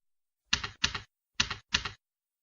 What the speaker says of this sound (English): please type test into the test box now